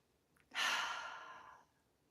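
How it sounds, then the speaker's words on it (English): A group of people take a deep breath together, heard as a soft, close, airy exhale that swells quickly, then fades over about a second in an otherwise quiet room. "Let's take another deep breath together."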